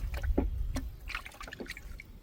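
A caught fish drops into a bucket of water, making a few quick splashes and sloshes followed by smaller drips and flicks of water, close by and without talk.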